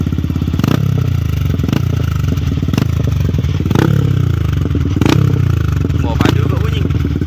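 Yamaha R15 V3 motorcycle fitted with an Akrapovic full-system exhaust, idling loud and close with a deep, bassy burble and repeated sharp throttle blips, while people talk over it.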